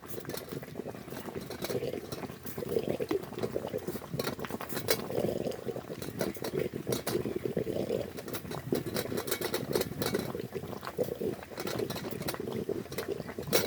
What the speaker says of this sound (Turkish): Semaverde suyum nasıl kaynıyor.